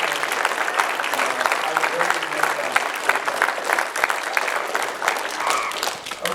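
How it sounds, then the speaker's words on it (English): An audience at a soccer club's dessert reception gives sustained applause. The clapping is dense and fairly loud and continues for several seconds, with some crowd murmur and voices mixed in. "I do want to give him another round of applause."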